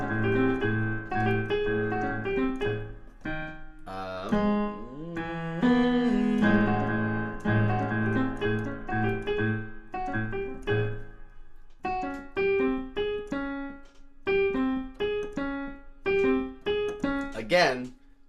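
Piano-style vamp from a musical number, a repeated chordal pattern built on rising perfect fifths a semitone apart, played steadily and fairly quiet with no talking.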